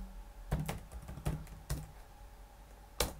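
Code being typed on a computer keyboard, a few quiet, scattered keystrokes with gaps between them, including a sharper, louder key press near the end, over a low background hum.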